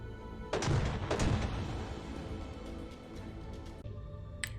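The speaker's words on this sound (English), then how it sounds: "there we see that my front guns are firing" Front guns fire on a warship in the space combat game Nebulous: Fleet Command, two heavy booming shots in quick succession followed by a rumbling tail and a faint later report.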